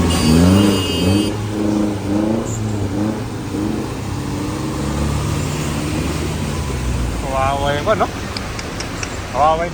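A small car drives along a flooded España Boulevard in Manila, its mid-pitched engine revving and rising over steady water wash while a person talks throughout.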